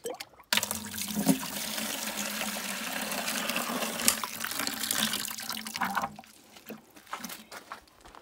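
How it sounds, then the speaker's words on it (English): Water pours steadily onto newly planted suckers in a garden bed for several seconds, a close, even splashing that tapers off into a few faint drips and rustles. "Water it really well."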